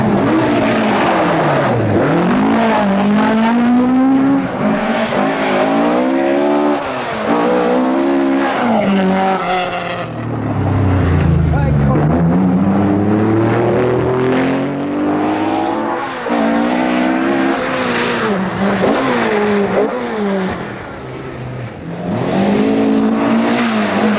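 Jimmy McRae's Vauxhall Chevette rally car at the 1980 Galway International Rally, engine revving hard and rising and falling through gear changes, with brief tyre noise on loose ground, loud and close throughout without talk.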